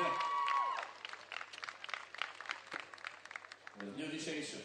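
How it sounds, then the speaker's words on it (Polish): Crowd applause greeting the players at a beach volleyball match, an FIVB World Tour tournament, broad clapping filling the clip with a brief announcer tone near the start and a shift in crowd noise at the end. "Witajmy zawodników, proszę o brawa."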